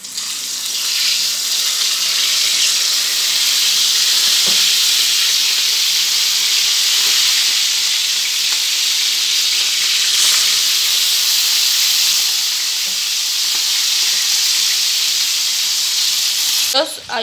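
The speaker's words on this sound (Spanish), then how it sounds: "Bien, pues ya está el aceite caliente. Y vamos a echar las costillas." Pork ribs sizzle and spit in hot oil in a home kitchen, a steady dense hiss that stays loud and even for the whole stretch, with a few faint clinks and no talking.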